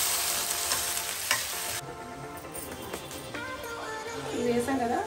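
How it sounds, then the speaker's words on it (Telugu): Capsicum for kadai paneer is stirred and sizzles in a pan, a steady frying hiss with scraping stirs, close and moderately loud. "క్యాప్సికమ్ అనేది ఇలా కొద్దిగా వేగితే చాలు."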